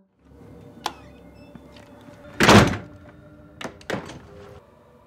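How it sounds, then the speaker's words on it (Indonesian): A room door in a motel scene from a film is shut with one loud, heavy thud, followed by a few sharper clicks and knocks in an otherwise quiet room. "pria itu tiba-tiba menutup pintu kamar"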